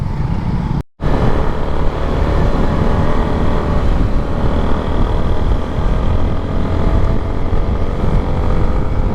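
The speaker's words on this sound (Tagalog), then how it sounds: "Yan, sarap ng ihataw ng makina." A Yamaha Sniper 155 motorcycle engine, fresh from an oil change, pulls hard while riding: a loud, steady, high-revving drone with road and wind roar, close throughout and cut by one brief dropout near the start.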